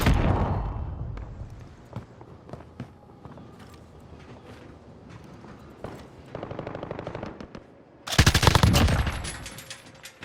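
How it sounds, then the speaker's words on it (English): A sentry gun fires in Call of Duty gameplay, with scattered single shots and short rattling bursts, then a loud sustained burst of rapid gunfire near the end. "Sentry gun ready to deploy."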